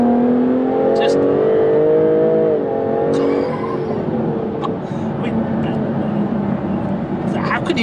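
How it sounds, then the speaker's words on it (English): A 2016 Jaguar F-Type S coupe with a supercharged 380 bhp V6 revs hard, a loud rising and falling engine note with brief crackles on the overrun, continuous and close throughout. "It's just intoxicating, the noise, the overrun with the crackles and barbles"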